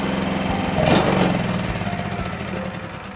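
Yamaha YT660 snow blower's small engine running steadily, a close, continuous buzzing drone with a brief louder surge near the start, no talk.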